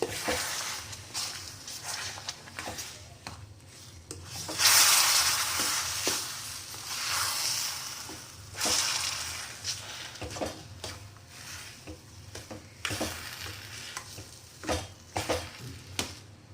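Rava upma mixture being stirred in a pan, soft scraping strokes over a low sizzle, with a louder hissing burst midway and quiet irregular stirring sounds afterward, no speech.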